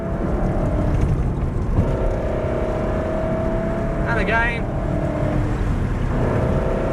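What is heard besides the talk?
race car engine accelerating along straight, shifting up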